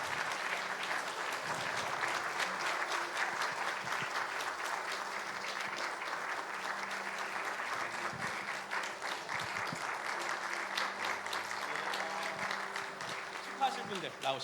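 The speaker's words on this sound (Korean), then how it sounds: "큰 박수로 격려해 주시기 바랍니다." A church congregation gives sustained applause during a Sunday service after an appointment announcement at a Korean Presbyterian church, a dense, even wash of clapping lasting about fourteen seconds with faint voices mixed in beneath it.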